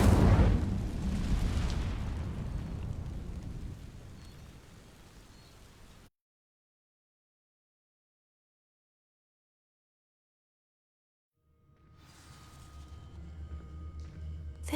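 In the Hogwarts Legacy video game, the Incendio fire spell sets dry vines alight with a roaring burst that slowly fades to silence, then a rumbling swell of fiery sound builds again.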